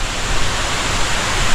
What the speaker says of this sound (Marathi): खूपच सुंदर धबधबा होता.